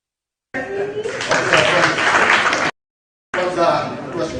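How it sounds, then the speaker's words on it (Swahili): A crowd at a church service breaks into applause, dense clapping close by, cut off abruptly and then resuming, with a voice mixed in. "tupige makofi"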